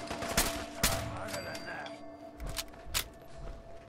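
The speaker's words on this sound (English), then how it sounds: "I really love this assault rifle." Assault rifle gunfire in the Fallout 4 video game, heard as several loud sharp bursts of shots with gaps between them, plus a steady electronic hum and faint shuffling under the shooting.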